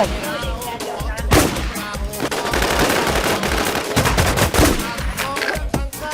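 Automatic gunfire rattles loudly in the online survival shooter WarZ, dense rapid bursts running almost without a break, with a few heavier shots standing out.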